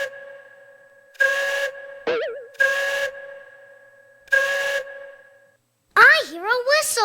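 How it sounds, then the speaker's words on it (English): Steady tonal whistle blasts in the JumpStart Kindergarten video game, several separate toots with brief gaps, plus a sliding cartoon whistle, ending in bright chirpy game sounds. "I hear a whistle."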